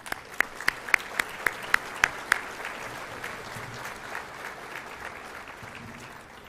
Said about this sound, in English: I'd like to give all of you a round of applause.